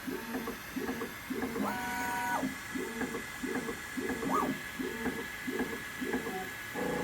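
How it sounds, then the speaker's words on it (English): A Bambu Lab X1 Carbon 3D printer runs its bed-leveling routine: a steady train of mechanical buzzing pulses, about one every half second, with brief stepper-motor tones rising and falling between them, close by and with no talking. "Alright, bed leveling."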